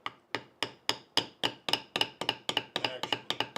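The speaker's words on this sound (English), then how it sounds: "hammering away over there" Steady hammer blows strike leather, around fourteen sharp taps at a quick, regular rhythm, close and fairly quiet with no talk.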